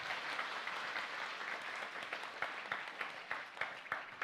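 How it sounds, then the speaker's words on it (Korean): Steady applause from a church congregation at an anniversary and Parents' Day worship service, a dense continuous patter of many hands with a few sharper claps standing out, moderately distant. "우리 박수 한번 주실래요?"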